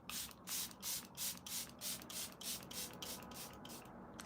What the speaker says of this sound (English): Again, I'm gonna spray my face again.